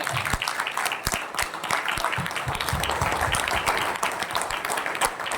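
Loud, dense applause from an audience at a Royalty School gathering in Hodal, sustained and even for the whole stretch with no talking over it.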